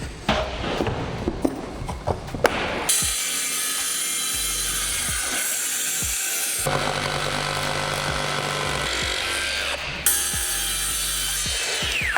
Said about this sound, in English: Now that I'm already drilling here, I just realized that I can already drill big enough holes here where I can install those rivet nuts